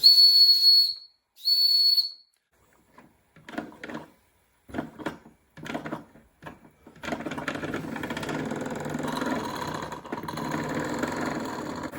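A model steam engine heated by a spirit burner: two shrill, steady whistle blasts sound first, followed by short chuffing bursts and then a continuous hissing rush of steam.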